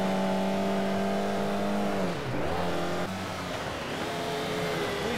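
A Renault Alpine 110 rally car with a 1600 cc engine revs in TOCA Race Driver 3, giving a loud, steady engine drone that dips briefly and then climbs again. No one talks over it.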